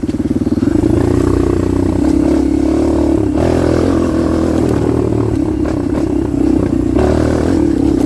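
A Kawasaki KLX 230R dirt bike held at high revs in fifth gear during a wheelie, a loud, close, sustained engine drone with slight pitch dips and surges throughout, with no talk.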